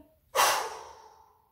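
A single forceful exhale during a dynamic sophrology relaxation breathing exercise: a sudden, close breathy rush that starts sharply and fades away over about a second.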